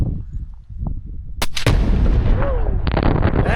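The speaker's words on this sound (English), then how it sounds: "blowing up the earth with some explosives" Explosive charges blast the earth at a Montana dinosaur excavation site, a sharp booming detonation followed by a long rumbling roar of scattering debris, loud and close with no talk.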